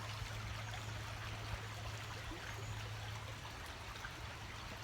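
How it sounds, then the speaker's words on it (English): Heavy rain falls in Garin Park Regional in Hayward, California, making a steady, dense patter and trickle that holds even and fairly faint throughout, with no one talking. "It's a nice heavy rain."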